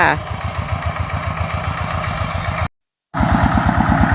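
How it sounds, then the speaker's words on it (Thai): A farm tractor hauling baled rice straw on a Thai farm labors up out of a bridge crossing, its engine chugging in a steady, rapid, loud thumping rhythm close by, briefly cutting out before resuming. "รถไถกำลังขึ้นแล้วนะเหมือนเพิ่นกำลังขึ้นค่ะ กำลังไต่ออกมาจากสะพานนะคะ"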